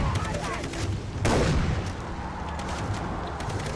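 Gunfire sounds in the video game Far Cry 3 as a loud rapid burst with a sharp blast partway through, over steady game noise.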